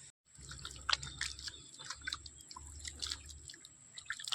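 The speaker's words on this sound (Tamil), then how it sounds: "இப்போ கழுவி காமிக்கிறேன் பாருங்க." Water splashes and drips while herbal shikakai powder is rinsed out of hair, with a rhythm of irregular splatters and trickles over a low, pulsing flow, up close and without speech.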